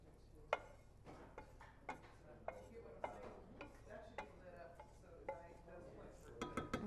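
A spoon stirs onions and garlic into beef broth in a pot for Three Sisters stew, making quiet, irregular clinks and scrapes against the pot that grow into a quicker flurry of taps at the end.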